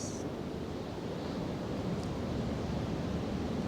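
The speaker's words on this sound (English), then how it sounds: "You can just listen to the waves" Gentle ocean waves rolling in and out as a soft, continuous low roar, steady and even with no voices.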